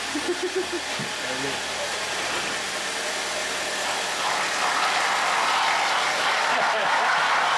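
A Jeep riding on new wheels and fresh tyres after a 3.5-inch lift kit, giving a steady broadband road roar and hum that builds gradually, with voices talking over it.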